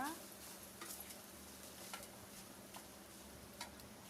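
Curd rice gets stirred and mixed in a pan, a faint low scraping with soft intermittent clicks of the utensil against the pan over a quiet steady hiss.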